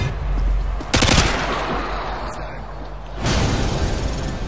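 Automatic weapon fire in Modern Warfare 2, a sharp loud burst near the one-second mark followed by sustained rattling gunfire and a renewed heavy volley after three seconds, all over a dense battlefield din.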